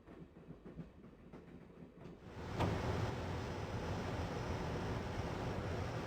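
Train in the video game Broken Sword rumbles steadily, starting faint and then swelling into a loud, continuous rolling roar with wind-like hiss after a sharp onset midway.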